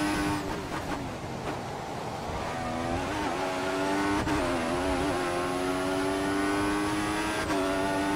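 A Formula One car's engine screams steadily in an F1 2014 race at Montreal, high and loud throughout, with sweeping pitch shifts as the gears change and a brief dip around mid-run.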